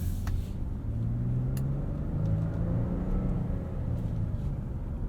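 Inside a 2022 Nissan Frontier PRO-4X pickup truck, a steady low engine and road rumble continues evenly throughout, with no talk over it.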